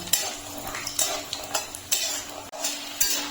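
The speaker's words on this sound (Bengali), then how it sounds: "বাদামগুলোকে আমি ভালো করে ভেজে নেব।" Peanuts frying in white oil in a wok, a constant crackling sizzle punctuated by repeated metal spatula scrapes and clanks against the pan in an irregular rhythm, near and fairly loud, no speech.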